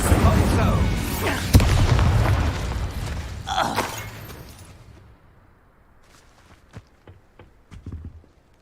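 The Incendio fire spell cast in Hogwarts Legacy, a loud whooshing, crackling burst with booming impacts that dies away into scattered faint clicks and footsteps, with a voice calling out the spell.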